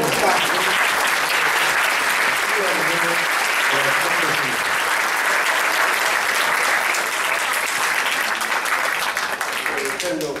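Audience at an architecture master class applauding, a dense, sustained clapping that stays loud and even, with a few voices faintly mixed in before it starts to thin at the end.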